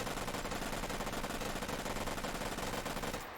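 Sustained automatic gunfire in a military shooter video game as a player dumps a full magazine, a dense, continuous rattle of rapid shots close by that runs unbroken for several seconds before cutting off.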